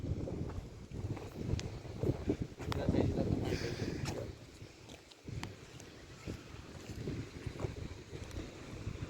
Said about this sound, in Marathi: किती आवाज येतोय पाण्याचा